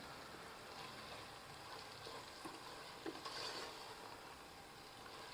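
A spoon works through a mutton biryani mixture in a pot, giving a soft, continuous wet sizzle and stirring scrape with a few faint knocks. The sound is quiet and steady and no one speaks.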